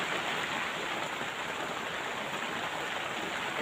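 Light rain falling on a muddy road, a steady, even hiss of drops throughout with no talk.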